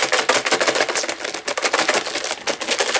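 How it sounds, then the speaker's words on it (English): Folded paper slips are shuffled about inside a container: a close, dense, continuous rustle and crackle with rapid uneven scraping bursts, loud and without talk. "let's give it a shuffle about"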